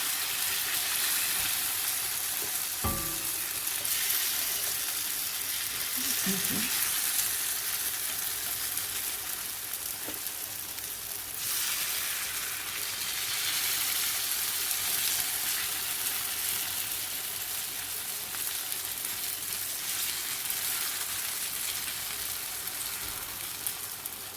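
Corn flour makki ki roti cooking over low heat on a griddle on a stove, with a soft steady hiss and occasional faint clinks, continuous throughout and with no talking.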